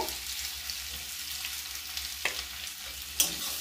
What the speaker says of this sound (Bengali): অল্প একটু নুন দিয়ে আলুটা এর সাথে ভেজে নেব।